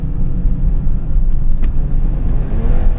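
Steady, loud engine and road rumble from a 2003 GMC Envoy with a Vortec six-cylinder as it accelerates to highway speed, heard from inside the cabin, with no talk.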